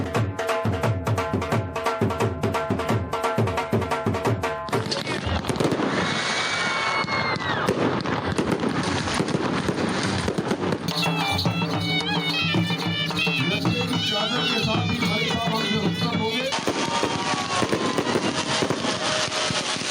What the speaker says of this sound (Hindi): सीबी मेले की रंगीनियां, आतिशबाजी का शानदार मुजाहिरा, स्टेडियम रंगारंग रोशनियों से जगमगा उठा।